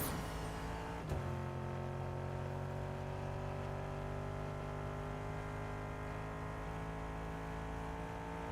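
A Lamborghini in a driving video game, its engine note sliding steadily downward after a brief sharp knock, a continuous close motor drone with no talking.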